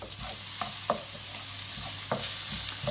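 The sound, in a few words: stirring vegetable quiche filling with Provence herbs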